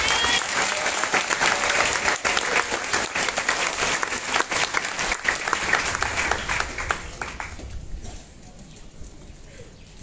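Congregation applauding at a closing mass of the Gabon episcopal conference plenary assembly, a loud sustained clapping that fades out near the end, leaving quieter room tone.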